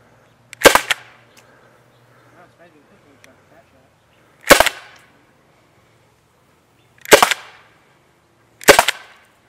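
A Byrna SD non-lethal launcher fired four times, each a sharp, loud crack standing alone against near silence, with a few seconds between shots and faint background sounds in between.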